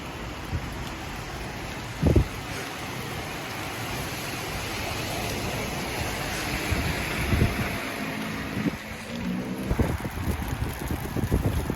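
Strong wind roars and buffets the microphone steadily, with occasional gusty thumps, outdoors in blowing snow in Paris.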